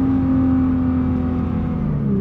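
New Nissan X-Trail engine humming steadily on a test track while being shifted from second down into first gear at speed, a smooth continuous drone with no jolt or break in the tone, close and fairly loud, no voices.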